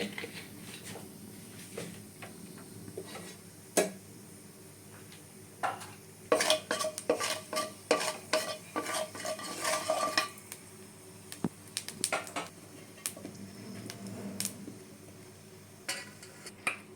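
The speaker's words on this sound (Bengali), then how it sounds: "কালো জিরে ফোড়নে দিয়ে দিলাম" Black cumin seeds tempering in hot oil in a pan, with faint crackle and sizzle under bursts of clattering utensil scrapes and clinks, close and intermittent.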